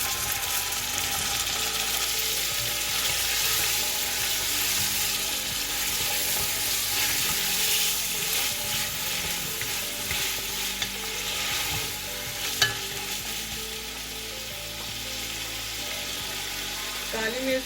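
Ginger frying together with onion in a pan for pumpkin soup, a steady close sizzle with stirring scrapes and clinks running throughout, and one sharper clink near the end.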